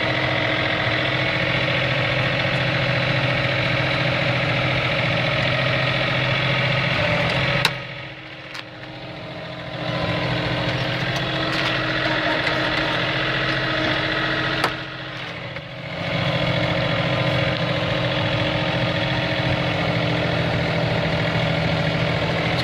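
A 1959 snowblower engine idles with a steady, close mechanical chug, dropping out briefly twice as the revs dip before settling back into the same rhythm.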